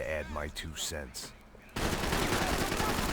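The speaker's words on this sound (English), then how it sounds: "So we gun that guy down, dive into cover." Gunfire in the video game Max Payne 3 during a nightclub shootout with gang members, a dense, loud burst of rapid shots that cuts in abruptly after a voice speaks.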